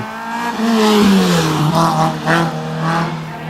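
A Renault Clio race car sits on the start line of the Arques-la-Bataille hill climb in 2003, its engine revving loudly in rising and falling swells with a steady roar and no voices.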